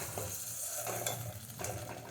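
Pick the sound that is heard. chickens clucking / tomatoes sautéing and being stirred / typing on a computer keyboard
tomatoes sautéing and being stirred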